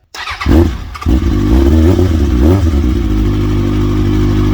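A go-kart fitted with a Yamaha 440 snowmobile engine fires up from cold, a loud close burst followed by a rough, steady two-stroke idle that settles into a continuous droning rumble.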